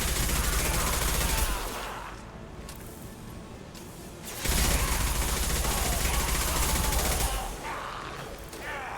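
Gunfire in Mass Effect 2, loud sustained bursts of automatic fire that drop off briefly and then resume, with mechanical clatter between volleys.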